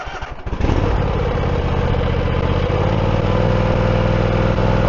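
A lawn mower engine revs up after a brief rumble and then runs at a steady, loud, buzzing drone while mowing, close by and continuous.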